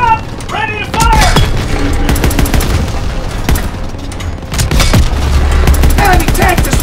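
Heavy tank cannon blasts and explosions in a Call of Duty: WW2 campaign battle against German armor, loud booms and gunfire crackle layered over game voices and battle noise throughout.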